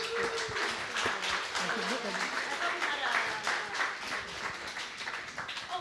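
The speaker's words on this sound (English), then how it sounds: "please, a big applause for our panelists, okay?" A conference audience applauds panelists after a discussion on decentralized AI, a steady wash of clapping at moderate distance with people talking over it throughout.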